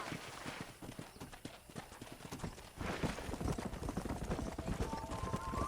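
Rhythmic clip-clop of horse hooves in the video game Red Dead Redemption, steady and fairly loud, picking up in intensity partway through.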